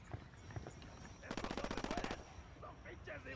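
Gunfire in Ghost Recon Wildlands: a single sustained burst of rapid automatic fire lasting under a second, rising over quieter game ambience and faint background sound.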